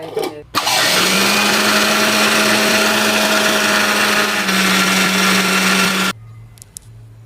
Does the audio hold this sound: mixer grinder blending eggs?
yes